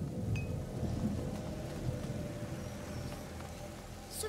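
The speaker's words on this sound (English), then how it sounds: "Lucas, Hugo, stay out of the rain." Steady rainfall hisses in the video game A Plague Tale: Innocence, with a low rumble of thunder underneath. The downpour is moderately loud and continuous, and no one talks.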